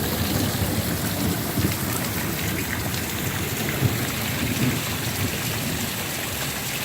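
Heavy rain pours continuously during a live thunderstorm in DeKalb, Illinois, with low rumbles of thunder rolling beneath the downpour, loud and close, with no voices.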